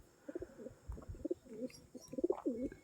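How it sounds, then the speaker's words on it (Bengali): Pure Andhra Kalanka pigeons coo nearby in repeated soft, throaty rolling phrases, several calls following one another over a quiet background. "দেখুন কালাঙ্কা পায়রা যতটা পাচ্ছি দেখানোর চেষ্টা করছি"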